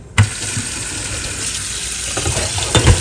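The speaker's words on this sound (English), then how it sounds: "Turn on that cold water." Water gushes steadily from a tap into a sink, close and loud, with a few clunks as things are handled under the stream.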